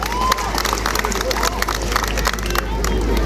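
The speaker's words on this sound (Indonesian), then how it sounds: "Tepuk tangan buat Jokowi." A political audience claps for Jokowi: dense, steady applause with scattered cheers and crowd murmur, loud and close, filling the whole moment.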